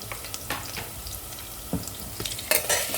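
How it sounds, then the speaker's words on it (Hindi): Salt, coriander powder, red chilli powder and turmeric are stirred and roasted in a pan for a Sindhi drumstick and potato curry, making soft sizzling under scattered, uneven spoon scrapes and knocks, close by. "अच्छे से मिक्स कर लेंगे। कुछ सेकंड तक भून लेंगे।"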